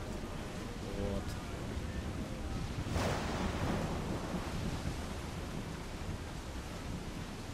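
A storm at sea in Assassin's Creed IV roars as a steady wash of wind and crashing waves, with one brief louder surge midway, the whole scene heard at a moderate distance.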